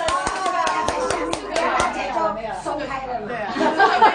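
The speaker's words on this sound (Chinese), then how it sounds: "拍手拍手" Hands clapping in a run of sharp, evenly spaced claps at a café dinner gathering of former classmates. The claps fade out as lively chatter, laughter and a voice carry on close by.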